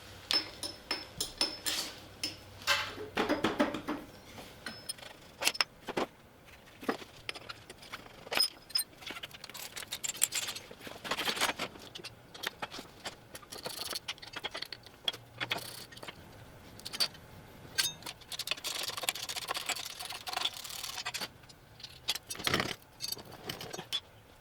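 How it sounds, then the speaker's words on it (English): Metal clanks, rattles and taps of a bicycle being dismantled in a workshop, to be cut up for a trike frame build; irregular close knocks and jangles throughout, no talking. "Time to take the bike apart."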